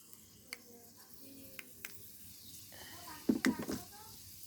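Fenugreek seeds drop into hot oil and set off a soft, steady sizzle. It is joined by a few faint clicks and a brief clatter of a utensil against the pan near the end.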